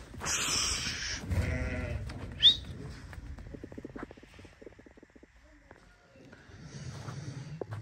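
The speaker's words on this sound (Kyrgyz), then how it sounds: "Дагы 4 баш кой сатыкка чыкты, 3-өсү козулуу" Sheep offered for sale, some of the ewes with lambs, give a short bleat amid a faint farmyard hush, with scattered clicks and a bird-like chirp nearby and some low talk at the start and end.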